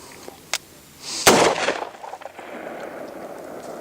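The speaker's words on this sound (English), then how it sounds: "That's a warning shot." A single sharp gunshot, a warning shot fired outdoors in Nevada, cracks once at moderate distance, preceded by a small click and followed by a rolling echo and faint rustling.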